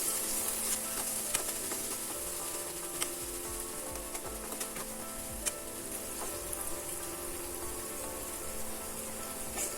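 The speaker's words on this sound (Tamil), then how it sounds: "வதங்கி முடிஞ்சோடனே டொமேட்டோ சாஸ் ஆட் பண்ணிக்கலாம். ஆட் பண்ணி வதக்கிக்கலாம்." Masala with tomato sauce for bread masala is sautéed in a pan, a soft continuous sizzle with light stirring scrapes and a few faint clicks, fairly quiet and without voices.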